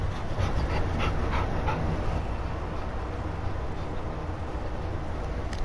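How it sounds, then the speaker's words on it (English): Dogs panting in warm air outdoors, a steady rapid breathy rhythm running for several seconds beneath a broad noisy background hiss, moderately close, no one speaking. "It was the dogs"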